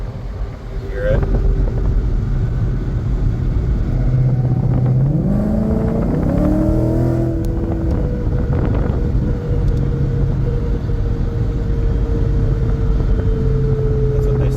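A 2014 Mustang GT on its first drive with newly fitted 4.56 gears, a loud steady engine and drivetrain drone inside the cabin, with one rising rev partway through and someone talking over it.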